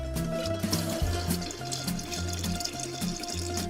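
Cold water pours steadily into a large batch of drink, a continuous splashing, gurgling flow heard up close under soft music, with no talking.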